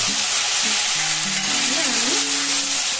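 A prepared spice paste is added to fried potatoes for a jackfruit-seed ghonto and stirred in the pan, giving a loud, dense, continuous sizzle close up.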